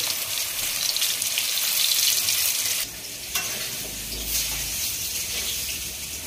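Bhetki fish fries in oil in a pan, giving off a loud, constant sizzle that briefly drops slightly in intensity partway through, then carries on.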